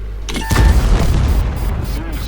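Tank cannon and artillery fire in the World of Tanks video game, a heavy boom with a rumbling low-end tail that lingers and swells through the rest of the clip, loud and close, with someone speaking lightly over it.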